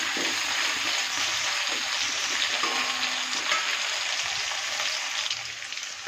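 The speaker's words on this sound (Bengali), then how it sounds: "এই যে আলুটা ভাজা হচ্ছে" Potatoes frying to a reddish brown in a pan of hot oil with bay leaf, a steady close hiss and crackle that runs without a break and eases slightly near the end.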